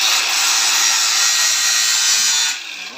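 An angle grinder with its guard removed whines loudly and steadily at close range, then the pitch drops and the sound weakens near the end as it winds down.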